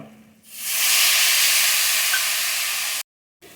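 Spice paste sizzling loudly in a hot pan right after a splash of water is added, a sudden broad hiss that holds steady for a few seconds, then cuts off.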